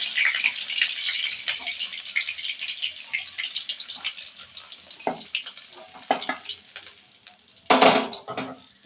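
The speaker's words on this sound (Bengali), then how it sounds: "এইভাবে সব মাছগুলো ভেজে নেব।" Fish frying in oil, a close, crackling sizzle with irregular pops and spatters, growing louder near the end as pieces are moved in the pan.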